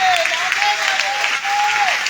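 Applause at a Sunday church service, a steady broad wash of clapping lasting about two seconds, with a sustained tone running underneath the whole way.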